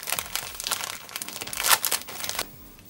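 Packaging crinkles and rustles as a Reality In Scale Wild Grass landscape mat is opened, a close burst of plastic crackling and crumpling that ends abruptly.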